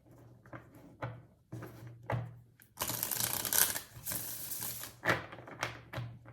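A deck of tarot cards is shuffled by hand in several quick riffling and tapping bursts, close and crisp, with a longer sustained riffle in the middle and no voices.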